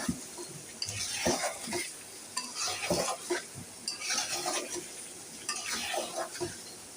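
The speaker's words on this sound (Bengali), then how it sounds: "পাঁচফোড়ন দিয়ে দিলাম আর বাকি রয়েছে রসুন" Panch phoron spices fry in oil for a sour-sweet-spicy amra pickle, a soft continuous sizzle under repeated scraping and clinking strokes of a spoon stirring the pan.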